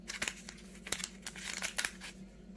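A paper sachet of baking powder crinkles and rustles up close in short, quiet bursts as it is emptied into cake batter, with no talk.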